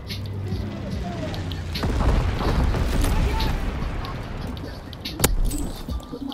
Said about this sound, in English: Incendiary mission commenced.